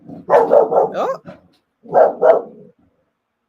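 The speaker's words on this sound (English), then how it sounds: "Y'all, that's just the DOG." A dog barks loudly and close by in two short bursts, a cluster of several barks followed after a pause by a pair, with a person briefly speaking.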